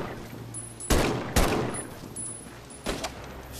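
Gunfire in the virtual reality shooter Medal of Honor VR: a few separate sharp shots, two close together and one later, cracking over a low hum of game background, with no talking.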